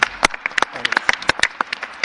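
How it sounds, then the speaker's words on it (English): Sparse, scattered clapping from a small conference audience thanking the speakers of a medical panel, distinct individual claps close together at an irregular rhythm. "Can we please give a round of applause to all speakers?"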